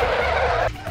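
A car in the Goat Simulator video game drives and skids, a loud, sustained tire screech over an engine drone for about a second that cuts off sharply near the end.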